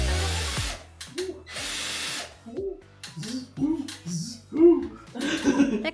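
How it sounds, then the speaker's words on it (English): A power drill pre-drilling holes for curtain brackets in a room makeover, bursts of whirring drilling separated by pauses, with clatter and handling noises close by and some voices between bursts. "I pre-drilled all the holes for the curtain brackets, and then Neth took over"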